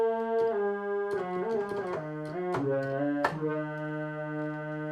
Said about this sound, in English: Now, my new favorite one, my Korg Volca NuBass.